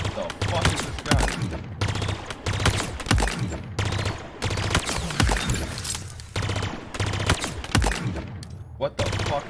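Rapid bursts of automatic gunfire from a gun in a video game shooting range, repeating in loud clustered volleys with short gaps across the whole stretch, and someone talking in between.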